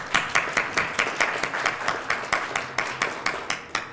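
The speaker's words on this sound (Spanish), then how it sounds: "Así que un aplauso," A small audience claps in a steady, rhythmic pattern of distinct hand claps, fairly close and moderately loud, continuing evenly throughout.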